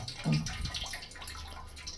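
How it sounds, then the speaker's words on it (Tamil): Dissolved tamarind water for vendakkai kulambu is poured into a pan, a faint, close splashing and trickling that starts with a brief louder gush and then thins to light, uneven dribbles. "புளியை நல்லா கரைச்சி அதில் ஊற்றிக்கணும்"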